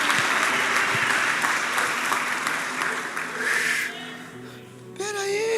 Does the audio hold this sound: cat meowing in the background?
no